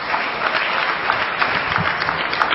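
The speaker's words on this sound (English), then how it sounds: "Give her a big round of applause." A crowd applauds steadily, a dense wash of clapping filling the whole stretch at an even level with no voices on top.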